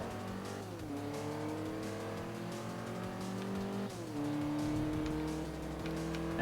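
A rally car in the Forza Motorsport 3 racing game revs hard through closely spaced gears, with loud, steady engine drone stepping through two upshifts alongside faint tire noise, no voices.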